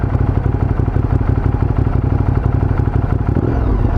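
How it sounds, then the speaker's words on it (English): A 2013 Ducati Multistrada's engine idles with a steady, loud, close mechanical clatter and thrum, holding a constant beat as cruise control is enabled, with no talking. "the engine will do a quick blip to let you know that the cruise control is enabled"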